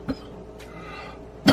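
A person coughs nearby with two short, husky bursts separated by a quiet pause, the second one louder.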